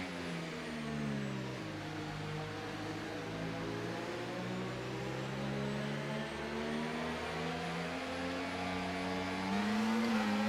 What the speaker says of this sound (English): we listen in with the V-Cup engine as we restart this race